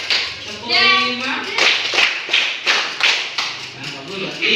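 A school class claps out the 'tepuk 5' pattern in quick rhythmic bursts of hand claps, close and fairly loud, with a voice briefly speaking at the start.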